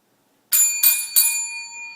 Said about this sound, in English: When you make a sale, you ring the bell